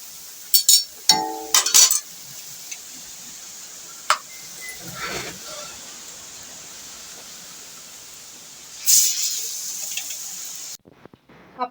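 Pappadavada frying in hot oil gives a steady, fairly quiet sizzling hiss. Sharp clinks of a utensil against the pan cluster near the start and return briefly later, then everything cuts off abruptly.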